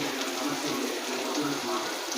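Dry red chillies, mustard-type tempering seeds and crushed small onions sizzle in hot oil in a pan, a steady, dense hiss of frying that runs unbroken and fairly loud throughout.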